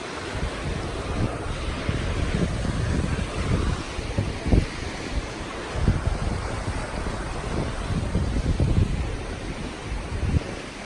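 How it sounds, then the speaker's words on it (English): Rushing creek water beneath a wooden bridge on the path down to Burney Falls, a dense, continuous roar with steady low rumble and hiss, close and loud throughout with no voices. "creeks that are flowing like rivers"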